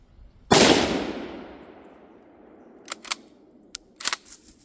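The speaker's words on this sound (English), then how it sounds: "Let's take the first shot with this thing and see how it goes." A single loud shot from a Carcano rifle, with a sharp crack and a long decaying tail, followed by several crisp metallic clicks and clacks of the bolt cycling.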